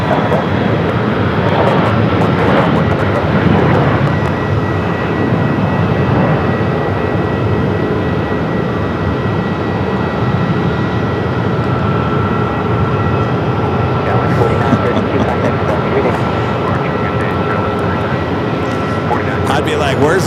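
An airliner takes off from runway 7 left at Phoenix Sky Harbor airport, a loud continuous engine roar that holds steady throughout, alone, without talking.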